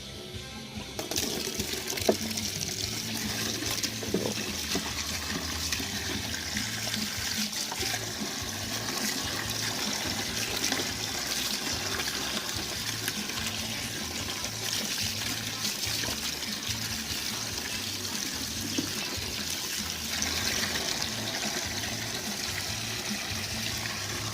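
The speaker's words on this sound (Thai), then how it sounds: "ล้างผักกันนะครับ" Tap water running steadily while vegetables are washed, a continuous close splashing stream with faint handling and occasional light knocks, some quiet speech in the background.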